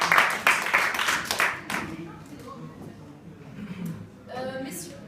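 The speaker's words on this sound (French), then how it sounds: "Donc, on l'applaudit très fort, s'il vous plaît" Brief burst of clapping from a small audience at a student debate training session, loud at first then fading within about two seconds, followed by talking and background voices.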